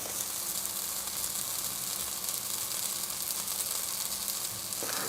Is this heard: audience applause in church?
no